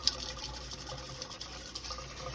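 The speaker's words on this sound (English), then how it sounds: "take your rice and you're gonna wanna rinse it in cold water. And then just kind of use your hand and drain that off a few times" Water drains off rice as it is rinsed by hand in cold water, giving a quiet, continuous trickling and splashing with small sloshing bursts as the grains are shuffled.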